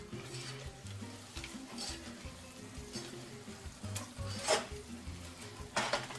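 Celery and onions sweating in butter in a pan, a steady soft sizzle with occasional utensil scrapes and clinks against the pan, close up and moderately quiet.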